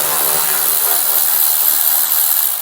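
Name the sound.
removing front license plate screws on a 2022 Ford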